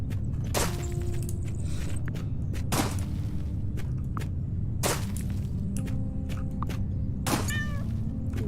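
A cat meows a few times over a steady background of low rumbling game ambience on a farm, with sharp clicks and thumps scattered throughout.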